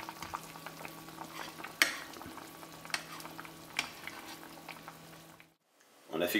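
A pot of sauce on low heat, simmering gently with soft steady bubbling and a few sharper clinks and stirring touches, ending in a brief near-silence before the sound returns.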